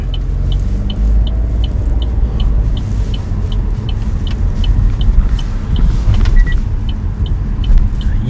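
A car pulls away on a road-driving test course, its engine and road rumble loud and steady up close, with a regular series of light ticking clicks running through the cabin.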